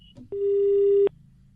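After a phone call is hung up, a single steady telephone busy tone sounds loud and clear for under a second, starting and stopping abruptly over a quiet background.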